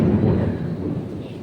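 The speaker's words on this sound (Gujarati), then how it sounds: "તો વીજળીના કડકડાટ બોલે છે" Deep rolling thunder rumbles through a windy monsoon storm, a loud, continuous low roar that swells and fades over a second and a half with no talk.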